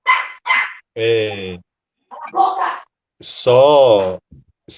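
A dog barks several times nearby, sharp and loud, with short yips interspersed and a person speaking between the barks.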